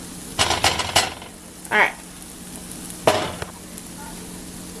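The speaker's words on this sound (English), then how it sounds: "we're gonna add the ground beef." Ground beef drops into a hot pan and sizzles while a spoon stirs and scrapes against the pan in a few short strokes, with a brief spoken word from a person.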